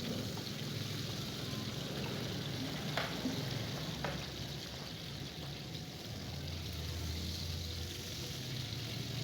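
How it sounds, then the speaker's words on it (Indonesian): Salted fish and a large clove of garlic frying together in hot oil, a steady, close crackling sizzle that continues throughout with a couple of faint clicks. "digoreng bersama-sama ikannya, ikan asinnya"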